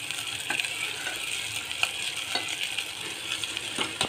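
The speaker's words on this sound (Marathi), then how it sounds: "अजूनमधून असं हलवून घेऊया" Spicy mutton curry sizzles in a pan while a spoon stirs it, a continuous frying hiss with occasional scraping clicks of metal against the pan, close and fairly loud.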